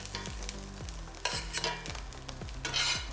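Rendered bacon frying in a pan, stirred with a few scraping strokes against steady sizzling, made while preparing bacon jam; close and fairly loud, with no voices.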